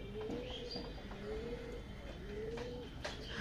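Andra breed tournament pigeons cooing at a home loft, a few soft repeated coos near the microphone over a low background hum, with no talk.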